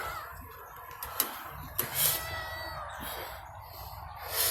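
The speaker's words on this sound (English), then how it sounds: "You gonna meow when I pick you up?" A cat lets out a few short meows while being picked up indoors, soft and close, mixed with faint handling noises.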